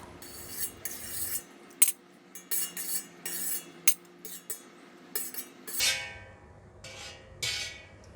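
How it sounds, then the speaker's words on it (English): A metal strainer scrapes and clinks against a pot of pork bone broth while oil is skimmed off the top, producing close, irregular taps and scrapes with brief quiet gaps. "I'm going to try to use the strainer to just lift out all this white color bubble"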